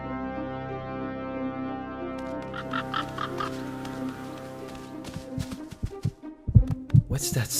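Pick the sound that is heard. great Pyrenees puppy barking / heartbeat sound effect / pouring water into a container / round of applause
heartbeat sound effect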